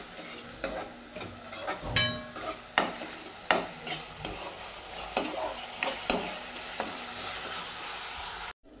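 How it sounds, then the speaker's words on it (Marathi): Ginger garlic paste frying in oil with onion and tomato for Maharashtrian kaju kari, stirred with a metal spoon against the pan in repeated scraping strokes over a steady close sizzle. "आलं लसूणची पेस्ट आपण परतून घेऊया एखाद मिनिटभर।"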